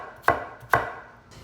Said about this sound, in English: Cut your squash up just like slices.